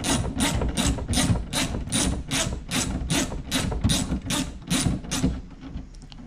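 Bolts being removed from the hood of a 2019 Camaro SS with a ratchet: a steady run of about a dozen quick, evenly spaced ratcheting clicks, close and fairly loud, fading out near the end with no talking.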